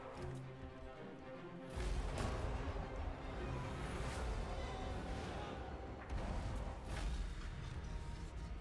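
Repeated booming cannon shots in a Total War: Warhammer 2 battle, a steady barrage of loud thuds and crashes over dense background noise.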